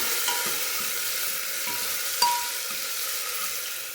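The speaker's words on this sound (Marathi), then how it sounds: "त्यामध्ये मी थोडेसे जिरे घालते, त्यानंतर अद्रक लसूणची पेस्ट घालूया, व्यवस्थित फ्राय करून घ्यायचं" Cumin and ginger garlic paste frying in a pan over high flame, a steady close sizzle with soft stirring scrapes and one sharp clink of a utensil against the pan.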